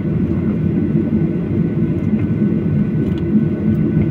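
Steady low roar and whir inside the cabin of an Air Europa Boeing 737-800 airliner, a constant engine and airflow drone throughout with faint ticks, and no voices.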